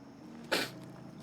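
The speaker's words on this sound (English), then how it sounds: "Oh, I'm gonna sneeze." A single short, sharp sneeze bursts out around the middle, alone against a quiet background during Oblivion gameplay.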